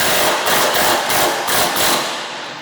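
Loosening a bolt on the fan motor of a MUSKOX 26-84 snowblower with a power tool, a steady loud whirring with rhythmic pulses of rattling impact bursts throughout, close up and alone.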